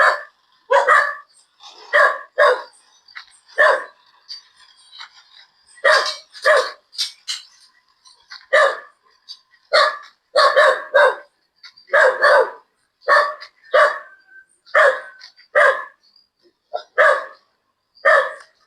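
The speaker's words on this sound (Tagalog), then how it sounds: "Kaya pala tahol ng aso." A dog barks outside during a morning walk, sharp repeated barks coming in steady bursts across the whole stretch, fairly close and loud with short gaps between them.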